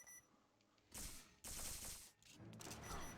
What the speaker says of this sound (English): You can actually shoot the gun really fast